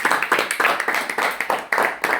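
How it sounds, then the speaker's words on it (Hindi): Students in a classroom applaud a classmate with a short burst of group clapping. The claps are loud, close and quick, landing in a fairly even rhythm of about four strokes per second. "तो इनके लिए क्या करना चाहिए, ताली बजाना चाहिए"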